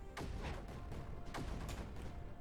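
Mortars firing in the video game Creeper World 4, a quick run of sharp, crackling bursts at low level with no talk over them.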